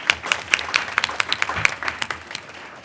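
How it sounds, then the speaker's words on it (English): An audience at a summer celebration for UX design and internship graduates applauds with distinct, fairly close hand claps forming a brisk, uneven patter, fairly quiet and without talk. "That deserves a round of applause."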